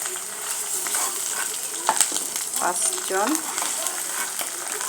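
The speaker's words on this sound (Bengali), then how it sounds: "5টা ডিম ভেজে নিলাম।" Five eggs frying in a pan give a continuous close sizzle with a few crackles and spatula scrapes. Brief faint voice-like sounds surface in the middle.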